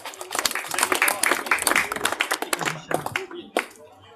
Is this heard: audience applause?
yes